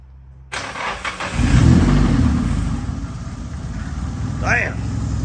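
Nissan S13 with an SR20 engine, fresh exhaust work done, cranks and fires up, settling into a loud, steady rumbling idle with light revving close by, and a voice speaking briefly over it near the end.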